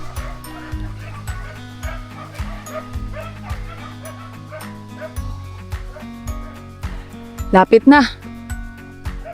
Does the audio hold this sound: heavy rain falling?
no